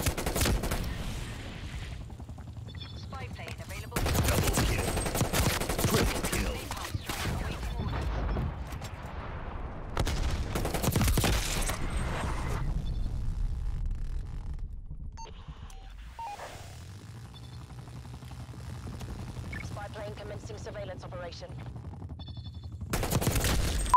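Rapid bursts of Krig assault rifle fire in Call of Duty Black Ops Cold War come in loud, dense volleys separated by short pauses, alongside other game sounds and a little talk.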